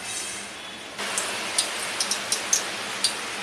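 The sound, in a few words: oil heating for tempering in pan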